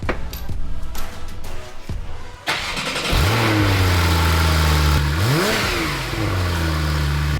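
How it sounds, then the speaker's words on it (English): A Porsche Carrera 991.2 on its stock exhaust starts up, then revs hard twice, the engine note climbing and falling each time before settling back to a loud, close idle. "So that was the stock exhaust."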